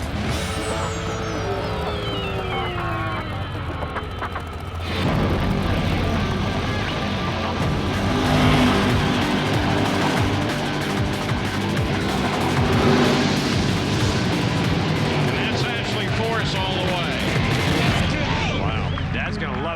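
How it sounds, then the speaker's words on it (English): A drag race run with a nitro car, its engine roaring in as a broadband blast that stays loud and sustained for about fifteen seconds, heard over crowd and broadcast noise. "You're going to see a really good drag race right here."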